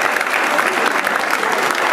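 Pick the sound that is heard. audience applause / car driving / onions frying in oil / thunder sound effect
audience applause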